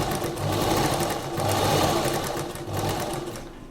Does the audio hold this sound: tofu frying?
no